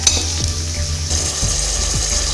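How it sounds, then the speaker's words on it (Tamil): Steady hot-oil sizzle as black pepper, ginger and curry leaves temper in a pan for ven pongal, loud and close, with a few scraping stirs of a spoon cutting through the continuous crackle. "மிளகு, இஞ்சி, கருவேப்பிலை சேர்த்துக்கிறோம். நல்லா தாளித்து விட்டுருங்க"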